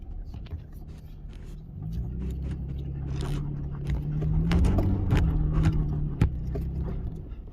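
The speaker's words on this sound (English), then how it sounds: "I'll just kind of drive up in here" A vehicle with modest ground clearance climbs a rough reservoir road in Vermont, its engine rumbling low and steady while the body rattles and jolts over bumps, with a sharp clunk near the end.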